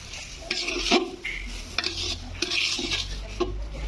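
Dry rice stirred and fried in ghee in a pot: a spoon scrapes and clinks against the metal in uneven strokes over a soft, low sizzle, fairly close, with no talking.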